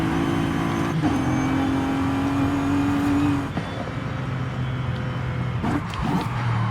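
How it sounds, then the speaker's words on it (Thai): A turbocharged W12 engine of a Bentley Continental Supersports in the game Forza Horizon 5 drones loudly with a rising turbo whine as it revs, briefly dropping back before building again, steady and close throughout. "เสียงเทโบชัดขึ้นมากเลยครับ"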